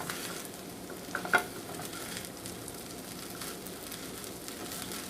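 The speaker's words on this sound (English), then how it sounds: "we're going to sort of toast them, but it's more like frying them" Food in a pan with olive oil over fairly high heat gives off a continuous, even sizzle, with a brief clatter of stirring near the start.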